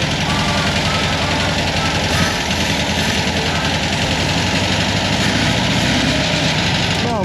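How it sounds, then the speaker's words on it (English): Old VW Split Bus engine, first started after sitting about 50 years, running loud and close with a rough, dense, steady chugging roar that never lets up. "First time in I don't know, 66 years or something like that this bus has been running."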